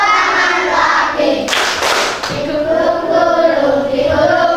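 Hand claps in a children's action song for a primary-school lesson, a short cluster of claps bursting out in the middle of sung melody that carries on before and after.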